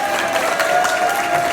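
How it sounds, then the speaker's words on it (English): A comedy night audience applauds the bar staff, a dense, steady wash of clapping with faint cheering, close and continuous for the whole moment. "Big applause for them."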